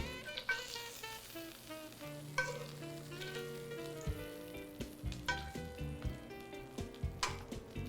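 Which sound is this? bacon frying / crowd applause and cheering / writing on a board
bacon frying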